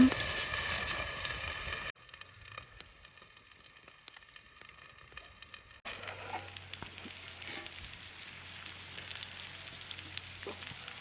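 Boit fish fry in a pan over a campsite cooking fire, a soft, low sizzle that changes character midway as the pan and surroundings shift, faint and steady throughout.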